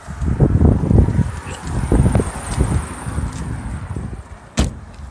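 Wind gusting outdoors on a city back street, rumbling buffets against a close microphone that ease off partway, with a brief sharp knock near the end.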